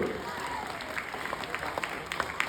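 Children clap for their teachers at an Independence Day celebration, scattered uneven applause with sharp individual claps over a murmur of voices and room noise.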